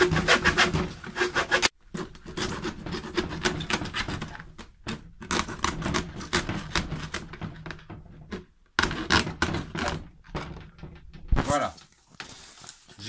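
Material for a homemade bird feeder is cut out by hand in straight strokes, with rasping, scraping passes in irregular bursts and short pauses, close to the microphone, under and between a person talking.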